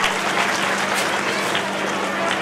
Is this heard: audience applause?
yes